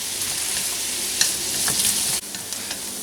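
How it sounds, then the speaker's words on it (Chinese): Onion and garlic sauté in olive oil in a pan, giving a steady, close sizzle broken by a few brief stirring clinks, with no voices. "洋葱、蒜煸炒一下。"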